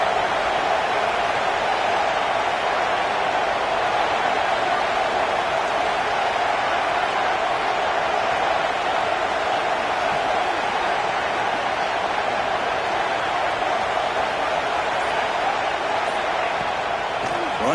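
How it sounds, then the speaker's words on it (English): A college football crowd at Nebraska versus Texas keeps up a dense, loud, continuous roar, pushing to inspire the defense for a red zone stop, with steady stadium noise and no breaks. "here comes the noise. This crowd is trying to inspire this defense to make a big red zone stop."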